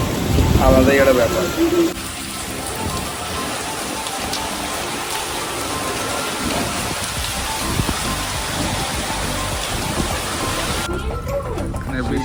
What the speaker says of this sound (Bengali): প্রচণ্ড ঝড় বৃষ্টি হচ্ছে